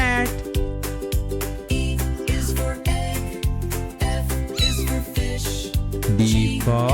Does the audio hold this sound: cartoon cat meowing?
yes